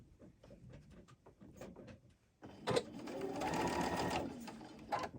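Quilt fabric is handled with light taps and rustles before a sewing machine starts up close by and stitches in a steady, fast whirring run.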